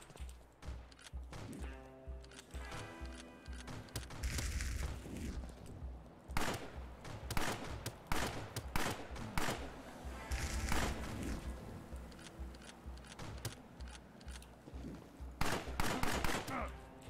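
Repeated gunfire bursts and rapid volleys from the Wild West and Wizards video game, sharp shots cracking loudly at irregular intervals throughout, with faint talk in places.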